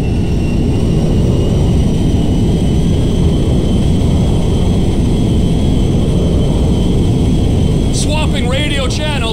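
A cargo jet comes in to land at Mackenzie Field in GTA 5, its engines a loud, steady roar and whine throughout, with a voice speaking briefly near the end.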